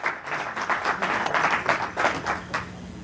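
Members at a board meeting of an Indian community federation in Chicago give a brief round of applause, a moderate rippling patter of hands in a room, with faint voices underneath.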